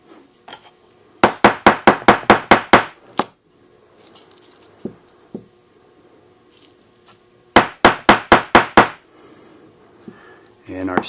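A hammer strikes a punch cutting slots in a leather belt, landing two quick bursts of about eight sharp, loud, evenly spaced blows each, with quieter handling noises in between and a final knock.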